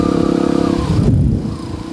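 A Yamaha WR155 trail motorcycle engine runs close by, a pulsing throaty rev that rises, then settles into a rough lower drone after a brief shift, loud and without speech.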